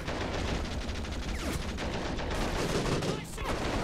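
A Medusa fires armor-piercing shells at a BTR-80 in a combat video game, producing rapid, continuous heavy automatic fire at close range over the whole stretch.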